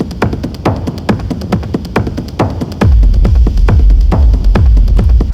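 A techno track in progress plays loud and steady, with sharp rhythmic percussive hits at a regular beat. A heavy, deep kick and bass layer joins about halfway through, with no talking.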